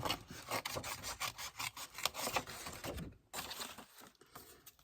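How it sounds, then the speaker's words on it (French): Scissors or a blade cutting out a blue paper egg shape for a scrapbooking card, heard as close, quiet rasping snips and scrapes in an irregular run with a brief pause, no talking. "Je vais venir découper cet œuf bleu ici."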